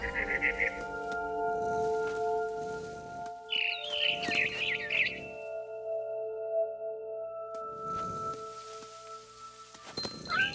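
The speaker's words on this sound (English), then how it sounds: "Then I heard chirping outside my window. It was a barn swallow going back to her nest." Short bursts of high barn swallow chirps in the video game What Remains of Edith Finch, a few quick calls near the start and a busier cluster midway, over a steady electronic hum and soft background.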